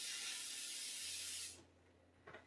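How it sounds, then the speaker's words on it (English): Cooking oil spray hisses into a small air fryer pan in a home kitchen, one steady burst of about a second and a half that cuts off sharply, followed by a brief soft clink. "I'm gonna get my bacon spray out though."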